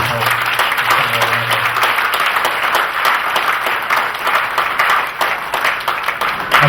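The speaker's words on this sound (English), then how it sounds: "I'd just like a round of applause for everybody in the room because everybody's helped." Wedding reception guests applaud in a room, steady loud clapping from many hands that stays even all the way through, with a brief voice near the start.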